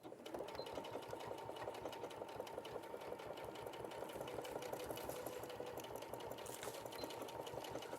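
A sewing machine stitches a single seam in a steady, fast, continuous run for about eight seconds, close and fairly quiet with a rhythmic mechanical whir.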